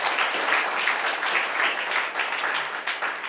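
Sustained applause from an audience gathered at the Karuna Buddha Vihar in Rajnandgaon, a dense, steady wash of many hands clapping that holds evenly throughout.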